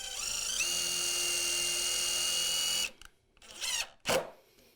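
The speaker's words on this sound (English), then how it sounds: "I'm going to pilot hole my drill until I'm almost finished" A drill runs in reverse, driving a screw into softwood lumber, a steady high motor whine that holds for about three seconds, then stops and gives way to a few short, quick bursts of spinning, close and fairly loud.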